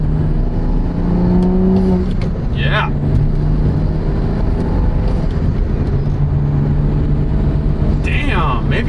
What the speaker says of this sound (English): So let's take this car for a drive, see if we notice any improvements.